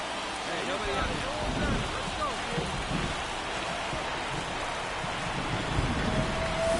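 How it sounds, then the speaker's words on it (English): Steady rain falling during a baseball game, a broad continuous hiss that fills the whole stretch at moderate, even loudness, with faint voices underneath. "It feels like we might be headed towards a rain delay if the weather doesn't ease up, Chris."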